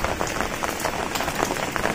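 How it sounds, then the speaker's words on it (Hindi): Heavy rain pours steadily onto a terrace under dark clouds, a dense continuous hiss with scattered louder drop patters throughout, no voices. "बहुत तेज बारिश हो रही है।"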